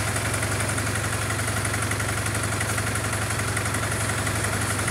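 Honda CBR 450 SR motorcycle engine idling steadily during carburetor balancing, a close, even, rapid mechanical throb with constant level and no voices.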